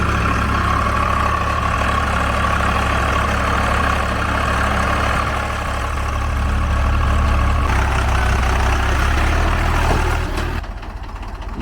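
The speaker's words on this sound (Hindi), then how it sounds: "25 से 26 साल पुराने ट्रैक्टर का आज मैं 5 टाइन के तोता हल पे प्रदर्शन दिखाऊंगा" A 25–26-year-old Swaraj 735 tractor with a Kirloskar engine pulling a five-tine plough through a mustard field, a steady loud diesel rumble running throughout with no speech, the sound shifting near the end.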